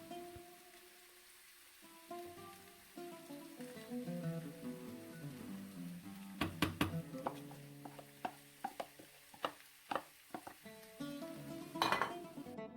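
A spoon scrapes and clinks in a pan while ground masala and green chilies are stirred into samosa filling, quiet mixing that turns into a run of sharp, irregular metallic taps and knocks with no voices.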